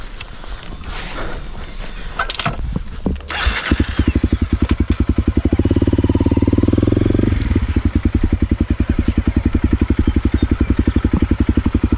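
A rally motorcycle on a dirt-road trip cranks, catches and settles into a loud, close, steady rapid-thumping idle, with a brief rev partway through and no talk.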